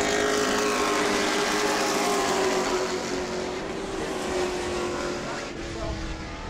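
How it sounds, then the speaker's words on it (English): Stock-style race cars roar around an oval track during a Sunbelt Series heat at New Smyrna, a loud sustained engine drone with a slowly shifting pitch and a commentator talking over it. "here comes Lucas Hinton, car 99 out of the back of the field, working his way"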